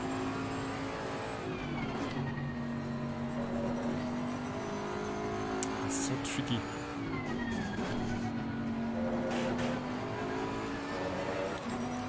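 A GT race car in Assetto Corsa Competizione at Brands Hatch holds a steady droning engine note that rises and falls through the corners, with brief tire squeals, while a driver talks over it.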